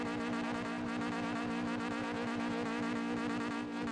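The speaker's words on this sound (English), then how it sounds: "clutch in, full throttle" A roku nana (Mazda RX-7 FC) rotary engine held at full throttle with the clutch in, a loud, steady buzzing rev with a rough pulsing rattle, close and alone.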